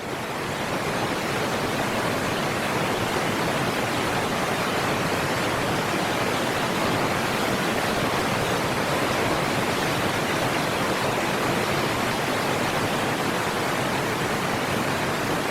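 A river rapid in the Alaskan wilds where bears wait for leaping fish, a steady broadband roar of rushing water that holds unbroken and even, near and enveloping, with no voices.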